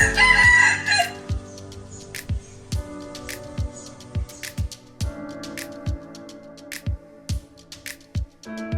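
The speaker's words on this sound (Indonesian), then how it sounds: "Ini adalah ayam." A rooster gives a single loud, drawn-out crow at the start, followed by steady rhythmic backing music with evenly spaced beats.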